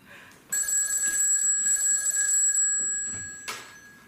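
A telephone bell rings loudly and continuously for about three seconds, close by, then gives one short final ring burst before stopping, in an improvised daytime soap drama scene.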